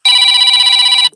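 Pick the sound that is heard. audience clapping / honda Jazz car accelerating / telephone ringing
telephone ringing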